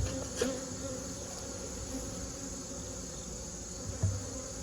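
Honeybees hum continuously around a large beehive during fall beekeeping, a close, steady buzzing drone with faint knocks and brief louder passes.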